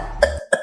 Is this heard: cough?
yes